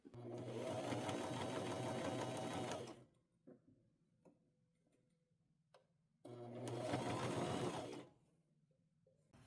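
A sewing machine stitching a robe with purple thread, two loud, rapid bursts of stitching about three seconds each, separated by a quiet pause with faint handling clicks.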